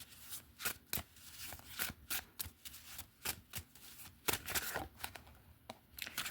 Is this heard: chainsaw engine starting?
no